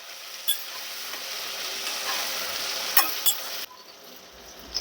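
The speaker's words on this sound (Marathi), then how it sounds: "आणि भाजीला थोडंसं हलवून घेऊया" An onion and tomato vegetable curry frying in a pan gives a steady sizzle with a few sharp stirring scrapes and clicks, before the sizzle drops to a quieter hiss near the end.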